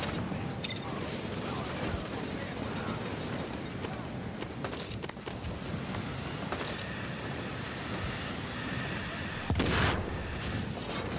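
Video game gunfire pops and cracks in scattered bursts through a dense, busy background of effects, with a heavier blast near the end and faint voices mixed in.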